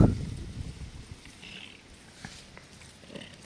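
A close, low rumbling purr from a cat, loudest at the start and then settling into a soft, steady drone.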